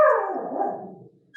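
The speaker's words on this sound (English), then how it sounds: "That's my dog." A single loud dog bark, drawn out into a falling howl-like tone, comes through close by during a planning commission meeting held online, then fades to quiet before a faint noise at the end.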